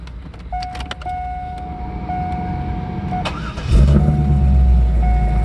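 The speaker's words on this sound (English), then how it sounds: "Of course, the exhaust sounds awesome." A 1999 Corvette C5 engine starts up and settles into a deep, throaty idle through its exhaust, preceded by a steady electric whine and some clicks and rattles.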